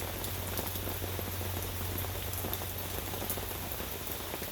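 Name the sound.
rain falling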